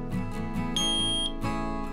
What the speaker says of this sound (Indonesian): sudah ada tanda bunyi untuk bip panjang, artinya proses sudah selesai